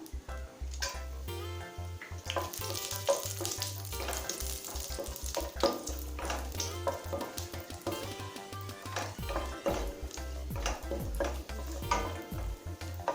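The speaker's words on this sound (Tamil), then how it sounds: "கடாயில தேவையான அளவு நெய், முதல்ல முந்திரி சேர்த்துக்கலாங்க" Cashews and almonds fry in ghee in a kadai for kesari, a steady close sizzle with stirring scrapes running throughout, no talk over it.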